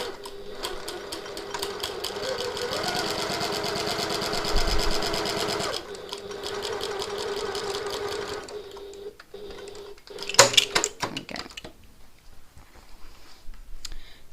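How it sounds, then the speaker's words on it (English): A sewing machine at a regular 3.5 stitch length runs end to end along a tote bag strap, backstitching at each end, producing a steady close mechanical whir with rapid needle clatter, brief pauses and a few sharp clicks near the finish. "now we're going to sew from end to end, and I'm going to back stitch at the start and the end"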